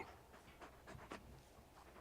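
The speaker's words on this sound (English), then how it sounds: "You're just a big puppy, aren't you? A very big puppy." A large dog pants softly in Final Fantasy 16, a few quick breathy huffs with faint whimpering tones, fairly quiet and close with no speech.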